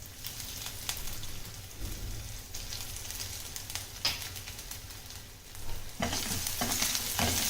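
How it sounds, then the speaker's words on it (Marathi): Garlic and coarsely cut ginger sauté in a pan, a soft, quiet sizzle with scattered stirring scrapes and a louder crackling surge toward the end. "आपण पहिल्यांदा लसूण परतून घेऊयात. त्याच्यामध्ये थोडंसं आलं त्याच्यात घालूयात."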